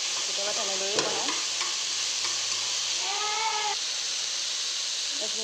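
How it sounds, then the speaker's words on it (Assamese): Fiddlehead ferns and potatoes sizzle and get stirred in a wok, with a spatula scraping against the metal over a constant frying hiss and a brief voice-like sound partway through. "এতিয়া ইয়াতে কাটি ৰখা ঢেকীয়া আৰু আলুখিনি দি ধুনীয়াকৈ ভাজি ল'ম"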